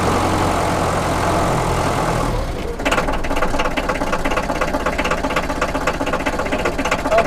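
A Mercedes Unimog 411 engine runs loud and close, with a steady diesel clatter that changes character partway through and keeps a rough, knocking rhythm throughout.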